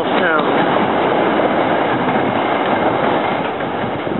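Loud, steady rumble of rail cars departing for Doylestown, moving along the tracks, with rolling wheel noise and faint squealing near the start, filling the whole stretch.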